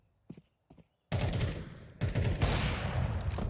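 Sustained automatic gunfire from a Counter-Strike gunfight, loud and dense, following two faint isolated pops, with a brief gap before the rapid volley resumes.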